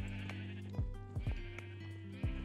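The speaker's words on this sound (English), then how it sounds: "Wow, I didn't realize how many sheep I had." Sheep in a survival video game wool farm bleat repeatedly, several overlapping calls from a flock rising over a steady low hum, close and clear.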